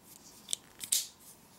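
The small scissors on a folding multitool give two quick, light snips close up, the second a little louder. Both are brief and crisp, set against a quiet background.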